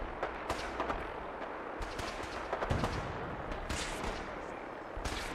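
Gunfire in the video game Fallout 4: a steady, dense crackle of repeated shots and sharp bursts, some close and loud, continuing throughout over a constant rumbling background.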